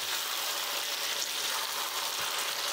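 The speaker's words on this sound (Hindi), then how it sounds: "3 से 4 मिनट मैंने मीडियम फ्लेम में चिकन को भून लिया है।" Chicken frying with ginger and garlic in a pan over a medium flame, a loud, steady sizzle that holds close and unbroken throughout.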